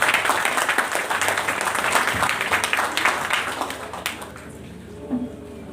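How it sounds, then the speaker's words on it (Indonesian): Applause from a village audience at a church Christmas celebration, sustained clapping for about four seconds and then tapering off, with faint voices as it fades. "Beri tepuk tangan buat kita semua."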